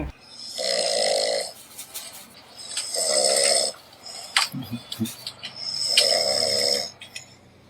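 A person imitates loud snoring, three long rasping snore breaths at a steady rhythm, close and clear, with a few short grunting sounds between them.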